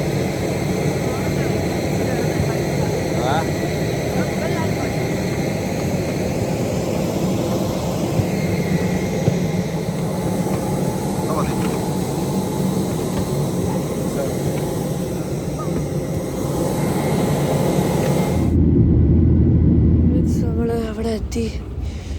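An airplane on a return flight from Kutaisi, Georgia, gives a steady, loud engine drone with a constant hum, faint voices in the background, before the noise drops away near the end.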